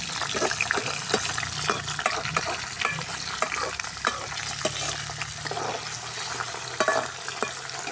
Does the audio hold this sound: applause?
no